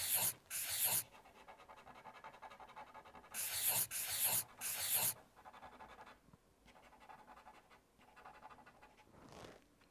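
Oil pastel being scraped off a drawing with a tool, two clusters of loud, rasping scratch strokes near the start, then a quieter stretch of faint rubbing.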